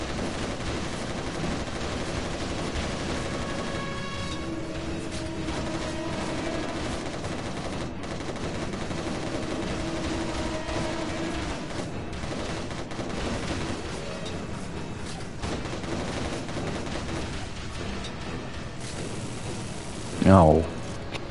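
Rapid gunfire in the video game Resistance: Retribution, a sustained run of shots under a busy game mix that ends in a brief sharp burst near the end. A voice talks faintly through it.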